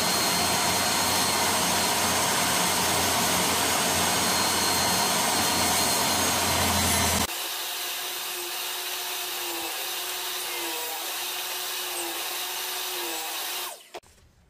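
Power tool cutting wood to make homemade racing-pigeon perches: loud, steady broadband whine for about seven seconds, then a lighter ongoing pass with a wavering tone until it cuts off near the end.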